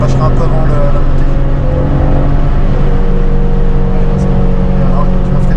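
Citroën Xantia Activa V6 accelerating hard in fourth gear on the Nordschleife, a loud, steady in-car engine drone that climbs gently in pitch, with wind and road roar throughout.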